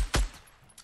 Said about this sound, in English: we're being shot